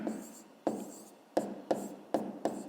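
Pen strokes writing out the answer to a fifth-grade maths volume problem, heard as several short, scratchy bursts in an uneven rhythm, close and quiet, with no talking.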